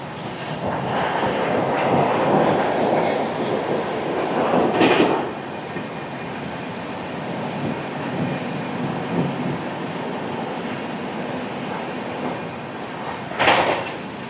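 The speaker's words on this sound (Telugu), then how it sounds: "గరీబ్ రథ్ గంభీరంగా పట్టాల మీద పరిగెడుతుంది" Garib Rath Express 12739, Visakhapatnam to Secunderabad, running on the tracks at night: a loud, steady rolling rumble throughout, broken by two sharp rushing bursts.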